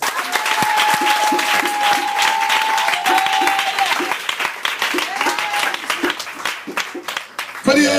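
A church congregation at a Friday night vigil applauds loudly and steadily in praise of the Lord, with a dense wash of clapping and scattered raised voices and cheers throughout.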